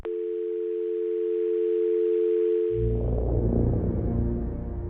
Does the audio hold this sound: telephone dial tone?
yes